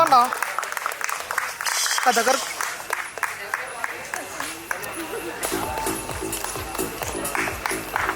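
Sparse, hesitant clapping from an audience at an award ceremony during a technology summit, thin patter that builds slightly, heard beneath a speaking voice and room chatter.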